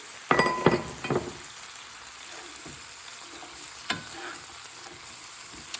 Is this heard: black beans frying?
yes